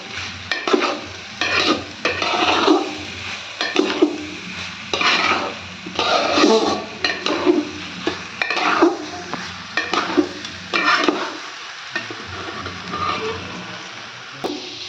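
Rice is stir-fried in a pan for chicken pulao, with loud, rhythmic scraping and stirring strokes over a low sizzle, repeated every second or so, close and without speech.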